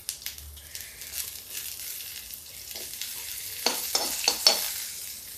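Cumin seeds frying in hot oil in a pan as sliced onion goes in, a steady soft sizzle with scattered crackles and a few sharper stirring scrapes near the end, no talking.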